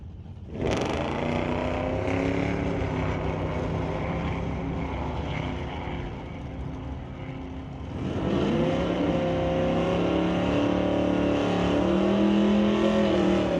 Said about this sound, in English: That brings up Haley Christensen with a 1967 C10 against Ann Copeland's 2016 Subaru Outback.